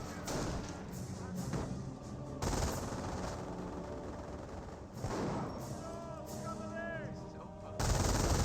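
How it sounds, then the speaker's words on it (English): MG42 machine gun in the World War II strategy game Company of Heroes, firing rapid bursts among other gunshots and thuds of battle, loud and continuous, with a commentator talking over the gunfire. "Section now seeing a bit of fire from the MG42."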